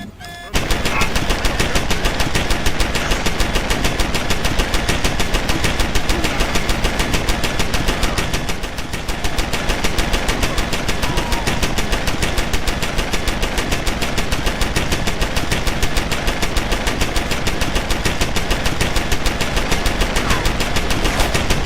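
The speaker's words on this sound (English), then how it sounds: "the turret took him out" Sustained, rapid machine-gun fire from an automated turret in Deus Ex: Human Revolution, a dense unbroken rattle lasting the whole stretch with only a momentary dip partway through, loud and close with no talking.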